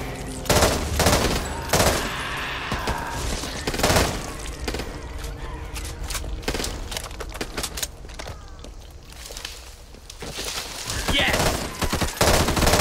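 Heavy gunfire in the video game Back 4 Blood: long bursts of rapid automatic shots and loud bangs, near and continuous through the whole stretch, with a short excited shout partway in.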